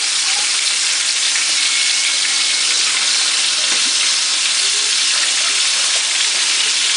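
Ground beef patties fry in a pan on a burner, a loud, steady broadband sizzle that holds evenly for the whole stretch, close and alone with no talk.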